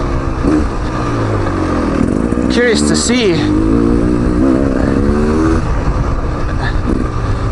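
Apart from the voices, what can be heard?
two-stroke dirt bike engine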